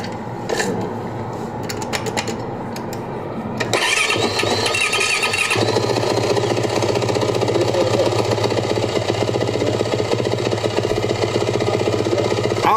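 A Yamaha YZ450F dirt bike engine fires up partway through after some quieter handling noises, then settles into a loud, steady idle that runs on to the end.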